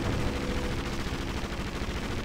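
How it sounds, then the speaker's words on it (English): Dense, continuous machine gun fire from the video game Indiana Jones: Emperor's Tomb, a steady loud roar of rapid shots with no pauses. "The machine guns in this game are insane."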